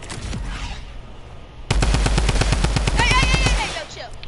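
Rapid bursts of automatic gunfire from a shooter video game crackle loudly and close, a dense rattling stream of shots running for a couple of seconds after a quieter stretch.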